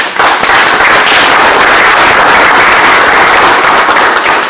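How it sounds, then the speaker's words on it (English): Dense, loud applause from a crowd at a community housing meeting, steady clapping throughout with no voices on top. "round of applause"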